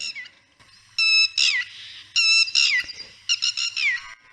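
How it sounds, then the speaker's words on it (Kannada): Loud, urgent squawking alarm calls of a red-wattled lapwing, several rapid bursts repeated close by with brief gaps. "ಈ ಪಕ್ಷಿಗಳು ಅಪಾಯ ಬಂದಾಗ ಮುನ್ಸೂಚನೆಯನ್ನು ಕೊಡೋದಕ್ಕೆ ಬಳಸುವಂತಹ ಒಂದು ಧ್ವನಿಯಾಗಿದೆ"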